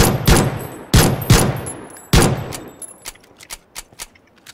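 Several loud, close gunshots in the battle royale game PUBG, spaced a second or so apart, then fainter, more distant shots trailing off toward the end.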